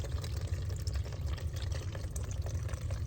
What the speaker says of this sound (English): it's going to drain out of your filter here.